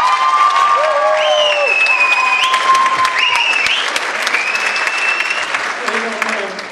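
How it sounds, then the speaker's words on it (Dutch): An audience gives sustained applause, dense and close, with cheering voices and a few whistles rising over the clapping before it fades toward the end. "Een applaus voor Maya."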